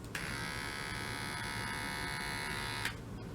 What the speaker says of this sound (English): getting them used to the sound of a clipper is really great